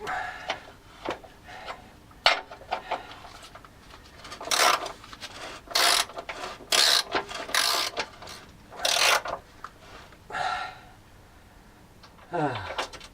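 Ratchet tightening rear suspension bolts on a Land Rover Discovery 2, bursts of close rapid clicking strokes repeated several times with pauses between and faint metallic clanks.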